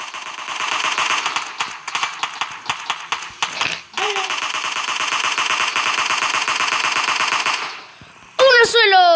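Video game gunfire: rapid automatic bursts of loud, close shots in quick rhythmic strings, broken by a brief pause, then a long sustained volley, with a shouted voice near the end.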